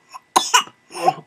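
Several sharp coughs in a quiet indoor room, a faint short one first, then two close bursts, a pause, a longer rough cough and a final abrupt onset at the end; no talking.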